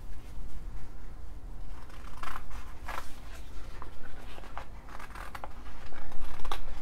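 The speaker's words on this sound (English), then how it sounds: "I'm going to hand cut this" Scissors hand-cutting upholstery fabric, a series of crisp snipping strokes at close range, irregular and fairly loud, with no talking.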